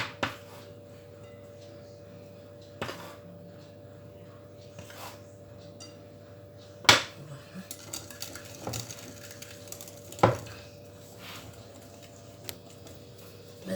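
Cake batter with vanilla stirred in a bowl for an Algerian mouskoutchou: quiet, sparse clinks and scrapes of a utensil against the bowl, with a few sharper knocks and no talking.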